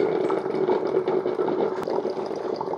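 A Ninja CFP300 DualBrew drip coffee maker resumes brewing after a pause, giving a steady close gurgling, bubbling hiss of hot water with a low pump-like hum and a single small click partway through.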